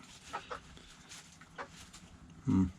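Farm chickens cluck in a few short, scattered bursts, with one louder, lower call near the end, heard fairly close in an outdoor setting.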